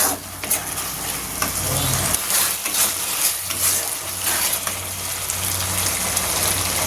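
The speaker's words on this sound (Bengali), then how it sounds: "এখানে আদা রসুনটা দিয়ে নাড়াচাড়া করবো" Ginger-garlic paste frying and being stirred in a pan, a loud continuous sizzle with a rushing hiss and repeated scraping strokes throughout.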